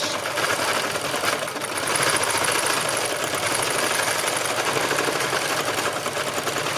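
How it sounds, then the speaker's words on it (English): A sewing machine runs continuously for free-motion stitching on a landscape textile piece, a fast, even mechanical whir that is loud and close throughout, with no talking. "all I'm going to do is actually switch my machine on, which is very helpful, and I'm just going to stitch"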